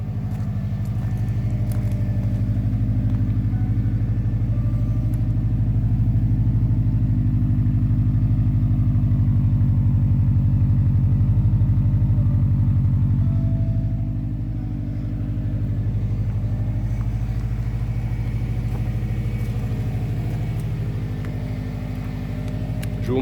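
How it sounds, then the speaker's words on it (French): A flat-four engine idles steadily with a deep, throbby low rumble, close and continuous, dipping slightly midway before settling back. "je peux déjà vous faire écouter le bruit du flat derrière"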